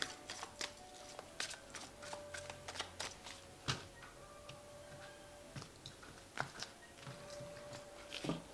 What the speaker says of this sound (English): So I have shuffled this deck.